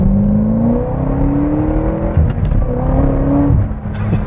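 A supercharged 6.2 liter V8 in a 2010 Corvette ZR1 accelerates hard, a loud, continuous rising engine scream with climbing pitch through the gears and a short break between shifts, close and alone.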